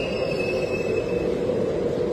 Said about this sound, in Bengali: ট্রেনটা কিন্তু ইতিমধ্যেই স্টেশনে পৌঁছে গেছে